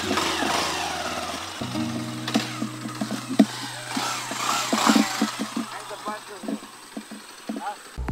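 A motorcycle engine idles steadily with a low mechanical drone, nearby, at a parking spot in Pampanga, Philippines, while people talk over it; the engine cuts out near the end.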